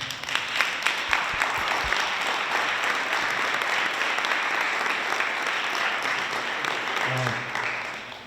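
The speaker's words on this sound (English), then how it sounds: "If you give them a round of applause" Sustained applause from a large crowd, dense and even, fading slightly at the end.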